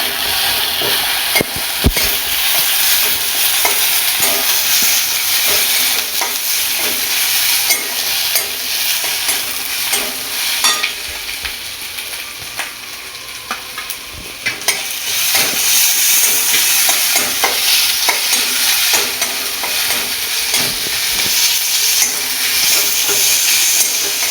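Ginger-garlic paste fries in hot oil for a chicken chana curry, a dense continuous sizzle filling the clip with frequent scraping stirs of the spatula, fairly loud and close.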